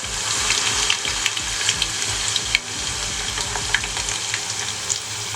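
Moong dal frying in hot oil in a kadai after being lowered in with a slotted spoon, a steady close sizzle with small crackling pops throughout and no talking.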